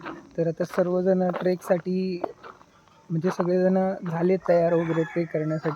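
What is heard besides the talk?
rooster crowing on a morning at a trek campsite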